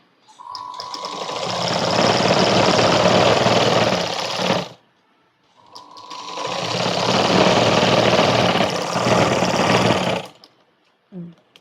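A sewing machine stitching baby frock fabric runs in two steady, continuous bursts of about four and a half seconds each, with a brief pause between them. The motor hum is close and fairly loud.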